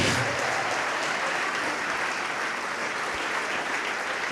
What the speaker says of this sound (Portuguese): E vamos aplaudir mais ao nome do Senhor.